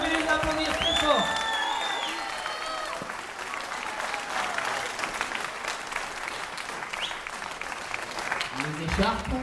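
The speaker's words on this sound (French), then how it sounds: "vous pouvez les applaudir très fort" Audience applauding warmly at the coronation of the queen of Nyons, steady dense clapping throughout with a few cheers, an announcer speaking over it.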